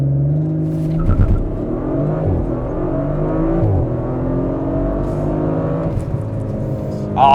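An Audi RS5 Competition Plus accelerates hard from a launch, its loud engine note climbing steadily through the gears with brief dips at each shift, close and inside the car.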